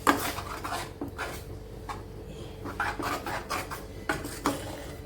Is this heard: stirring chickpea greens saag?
yes